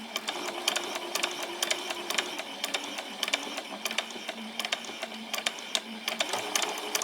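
Sewing machine running along the very edge of fabric for summer shorts, with a couple of back stitches before stitching forward; rapid mechanical needle clatter in steady bursts, close and alone without talk.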